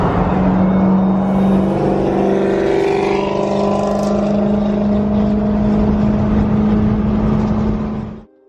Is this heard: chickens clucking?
no